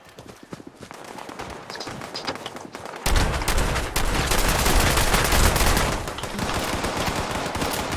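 Combat shotgun fire in Fallout 76 Nuclear Winter, rapid close blasts that begin sparse and faint, then turn into a dense, loud volley of repeated shots mixed with other battle noise.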